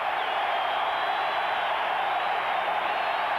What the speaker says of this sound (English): You'll hear the crowd get into it.